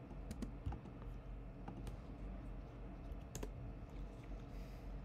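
Scattered, fairly quiet clicks of typing on a computer keyboard, an irregular patter of keystrokes over low background hum, with no talk.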